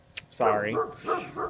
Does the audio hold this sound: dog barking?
yes